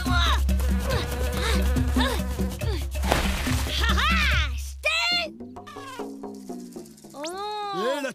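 A fly buzzes in an animated Trolls de Troy cartoon amid busy cartoon sound effects and chirping, bird-like calls, with whooping, sweeping tones in the second half.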